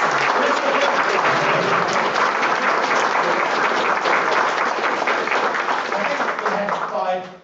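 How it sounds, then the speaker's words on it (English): Sustained, dense applause from attendees at a neighborhood council meeting, loud and continuous for about seven seconds before tapering off at the end. "Can we have a round of applause for the..."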